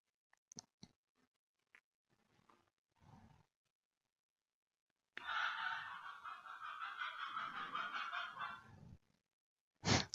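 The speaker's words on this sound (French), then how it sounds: "il y a le coq qui chante." A rooster crows loudly for several seconds in a rural setting in the south of France, a long harsh call following a few scattered short sounds, with another brief burst at the end.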